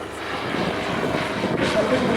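A 100-horsepower four-cylinder racing plane engine at an air meet drones steadily at a distance throughout, with a faint rise in pitch as it passes and voices talking over it.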